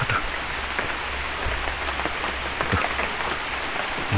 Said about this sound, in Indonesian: Ih, malah hujan.